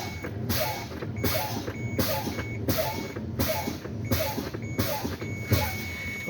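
A truck's low air pressure warning alarm beeps steadily about once per second in the cab, with a low mechanical hum underneath.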